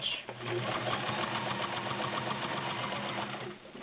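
A Kenmore Model 1755 sewing machine stitches through stiff upholstery fabric at a fast, even pace, its rapid mechanical stitching loud and close, with a slightly labored, heavy-duty tone throughout.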